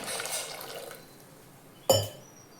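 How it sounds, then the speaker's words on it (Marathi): Water poured into a cooking pot on a gas stove, a brief wet rush at first, then quiet, then one sharp splash and clink up close. "आता कण्या शिजण्यासाठी आपण त्याच्यामध्ये 1 डिचकं पाणी टाकून घेऊया."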